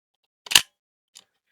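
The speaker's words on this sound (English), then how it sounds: "Shutter on this one, not quite as satisfying as the other Topcon camera" A Topcon film camera shutter fires with one crisp, close snap followed by a fainter second click about half a second later, heard alone in silence.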